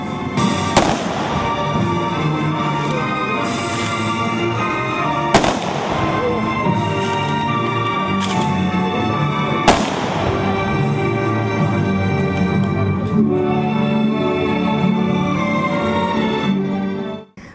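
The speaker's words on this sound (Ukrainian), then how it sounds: "На завершення мітингу пронизливу тишу розвіяли звуки гучних пострілів." Several sharp, loud ceremonial gunshots fired into the air by soldiers at a Victory Day rally ring out at irregular intervals, cutting through a dense, sustained background of music or crowd sound.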